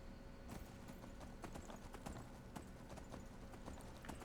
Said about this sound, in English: Get on your horse, Marcurio.